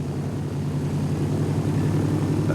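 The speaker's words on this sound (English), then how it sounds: "At 2:10 p.m., the 5 planes left the runway and headed east" Propeller aircraft droning steadily as they leave a runway at Fort Lauderdale, a continuous low engine rumble heard alone and fairly loud.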